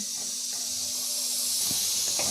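Urad dal frying in a pan for temple-style pulihora, a steady close hiss of hot oil throughout with a few faint scraping stirs near the end.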